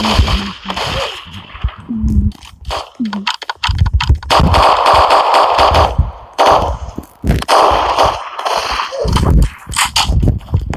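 Rapid gunfire in a Roblox-style online game, with bursts of shots and clicky effects running through lively excited talk and shouting from players throughout.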